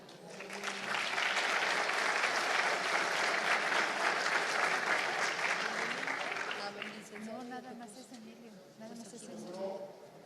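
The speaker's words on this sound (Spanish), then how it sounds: "Damos un fuerte aplauso." Forum audience applauds loudly at a cannabis regulation summit in Mexico, a dense wash of clapping for about seven seconds that fades as a voice begins speaking over the tail.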